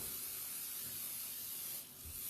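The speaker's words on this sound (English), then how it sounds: "This is my butter spray, and I'm going to spray the bottom of my pie pan here." Butter-flavored cooking spray hisses from an aerosol can onto the bottom of a pie pan, a steady close, loud spray lasting about two seconds with a brief dip near the end.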